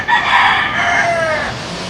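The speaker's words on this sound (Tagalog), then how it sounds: "papakita ko po sa inyo yung ibang manok mga kalaki" A gamecock rooster crows loudly and close in one long, strained call that trails off, with another bird faintly clucking in the background.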